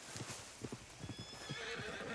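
A horse in the video game Red Dead Redemption 2 trots up when called, its hooves clip-clopping in a quick rhythmic run at moderate distance, with a brief whinny and faint game ambience.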